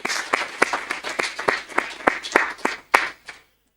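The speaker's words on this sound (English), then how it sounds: "Please give them a round of applause." A conference audience breaks into applause for event volunteers, a dense wash of many hands clapping with sharp individual claps standing out, rising and falling before quickly fading to silence.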